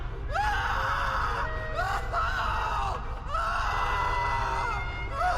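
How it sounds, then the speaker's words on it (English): A frantic, desperate scream rings out aboard a ship in a tense drama scene, with rising and falling shrieks repeated several times over a loud, constant rumbling background. "another scream fills the air, more frantic and desperate than the first"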